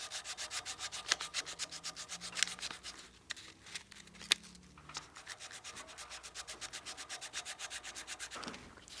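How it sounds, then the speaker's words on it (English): Sandpaper rubs by hand across a wooden whistle notch held on a flat block, a quick, regular back-and-forth rasp, close and soft, with a few light knocks in between. "we're cutting with the sandpaper just on the flat face here"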